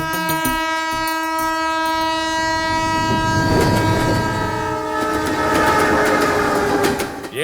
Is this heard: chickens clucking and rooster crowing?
no